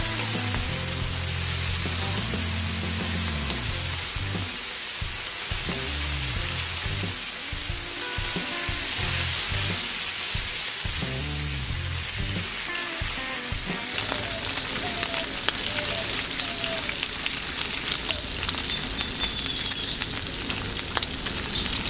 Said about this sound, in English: after a couple minutes, we're basically gonna just give our bacon a flip